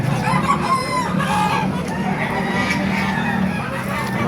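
Chickens crow and cluck continuously at a crowded Baliuag animal market where ducks, geese, goats, pigeons and turkeys are also sold, with rooster calls layered over a busy, noisy background.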